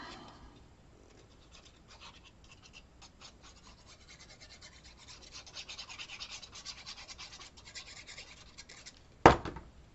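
Glued paper on a handmade card base is burnished in soft, close scratchy rubbing strokes that grow busier toward the end, capped by one sharp loud knock.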